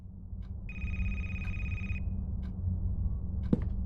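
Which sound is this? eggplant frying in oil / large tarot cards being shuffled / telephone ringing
telephone ringing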